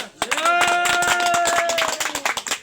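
Audience applause at a gathering comes as a run of quick, rhythmic claps from the crowd, heard under a loud, sustained voice.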